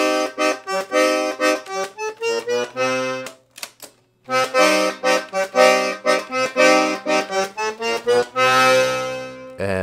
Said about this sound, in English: We've got 120 bass buttons with two registers that sound like this.